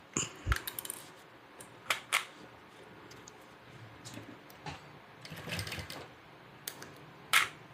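Domestic sewing machine stitching across the ends of a hip bag to secure them, heard as short separate bursts of clattering stitches with pauses between runs, close and fairly quiet.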